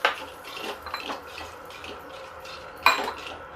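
A spoon stirs yogurt masala in a cooking pan for bhindi do pyaza, with several clinks and scrapes against the metal, including a sharp knock near the end, over a soft wet simmer.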